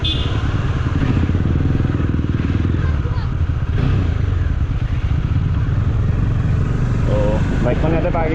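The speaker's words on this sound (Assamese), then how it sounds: "বাইকখন ইয়াতে পাৰ্কিং কৰি লওঁ" A motorcycle engine runs loud and close throughout as the bike is ridden and brought to a stop for parking, with a steady throb and some clatter, and a voice heard near the end.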